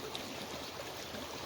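A small, shallow creek runs steadily nearby, a soft continuous wash of water with no talking over it.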